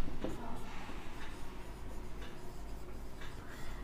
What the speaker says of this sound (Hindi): तो लिखते हैं फर्स्ट